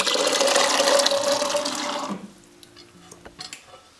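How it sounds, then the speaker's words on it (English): Chickpeas and water poured into a simmering chole masala gravy in an Instant Pot, a loud continuous splashing pour lasting about two seconds, then quieter scattered stirring clinks. "Now I'm adding chickpea"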